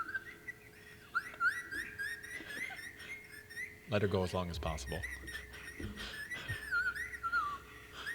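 A woman whistles chirpy, warbling bird-call imitations close to the microphone, with quick repeated trills throughout, while people talk and laugh over parts of it.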